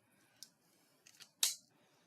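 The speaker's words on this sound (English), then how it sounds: "I am going to do a quick fussy cut on here" Scissors snip a paper design in quiet, isolated close cuts: one small snip, a quick double snip, then one sharper, louder cut.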